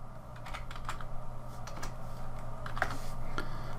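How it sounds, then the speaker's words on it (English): Someone taps numbers on a computer keyboard while working in SketchUp, producing a few soft, scattered key clicks and a final keystroke over a quiet room hum. "I'm going to type in a value of 24 and hit the enter key"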